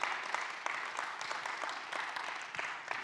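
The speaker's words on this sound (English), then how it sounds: "give him a round of applause as he takes over this morning" Church congregation clapping as a guest preacher takes over the Sunday morning service, a full, busy patter of many hands at steady moderate volume throughout.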